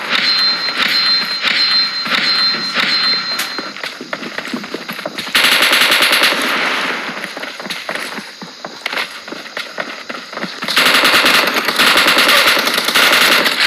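Automatic weapon fire in PUBG rattles in loud rapid bursts, with dense stretches of continuous shooting broken by shorter gaps and single shots, heard close and alone.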